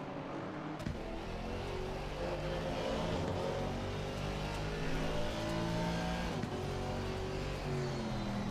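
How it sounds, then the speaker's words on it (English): A racing car engine in the game Assetto Corsa Competizione drones and revs continuously at the Catalunya circuit, pitch rising and falling through gear changes, with a steady muffled quality. "See what the in-game car sounds like."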